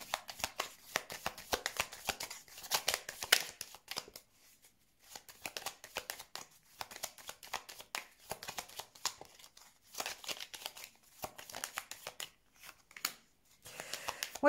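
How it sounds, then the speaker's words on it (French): Tarot cards handled and laid out during a reading: bursts of rapid shuffling and riffling, close and crisp, separated by brief pauses, with no talking. "je vais peut-être mettre quelques cartes quand même sur ces conflits pour voir"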